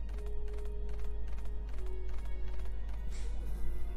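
Horse hooves clip-clopping in the video game Death's Gambit, a steady run of even hoof beats over game music and ambience, with no talk over them.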